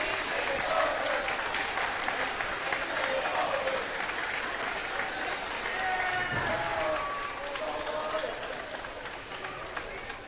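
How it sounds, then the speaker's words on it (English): Home crowd at a high school boys' basketball regional game cheering and applauding late in a lopsided win, a steady, moderately distant roar of claps and voices lasting throughout, with a commentator talking over it. "The Centerville crowd starting to celebrate."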